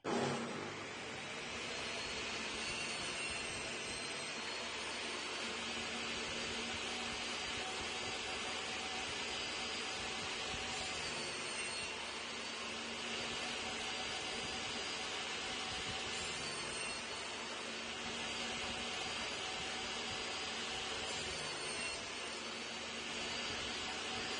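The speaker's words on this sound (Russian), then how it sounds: "Запускаю, делаю первое пиление." A table saw with its blade raised to full height runs continuously, cutting wooden ring segments with a loud, steady broadband whine that holds nearly unchanged throughout.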